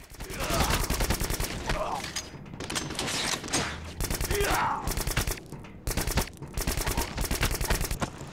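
Rapid automatic gunfire and pistol shots in the shooter game Black, loud close bursts repeating in quick rhythmic volleys with brief pauses between them.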